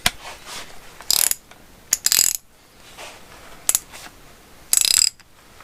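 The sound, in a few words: ratchet with 3/8 extension loosening motorcycle fork bolt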